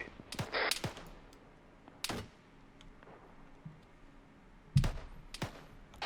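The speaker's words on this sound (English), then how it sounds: "I'm taking sniper fire." Sniper fire in Arma 3 sounds as sharp, separate cracks scattered irregularly over a quiet background, a few sharp close reports and fainter distant ones, with no talk.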